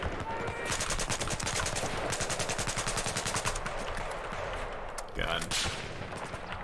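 Rapid gunfire from Battlefield 4 rattles in dense bursts, mixing sniper shots and automatic fire at a distance, with a brief spoken exclamation near the end.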